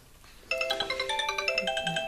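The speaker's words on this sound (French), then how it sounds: "Oups, téléphone qui sonne." A phone rings indoors. After a quiet start the melodic ringtone begins suddenly and repeats its bright, regularly pulsed notes, clear and fairly close.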